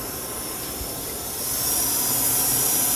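Steady hissing rush from a Felder Profit H08 CNC router as a pedal triggers spindle lubrication, growing louder and brighter halfway through and holding there with no one speaking.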